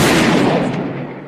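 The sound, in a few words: gunshot sound effect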